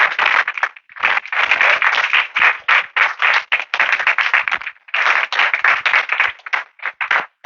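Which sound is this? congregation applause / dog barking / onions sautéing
congregation applause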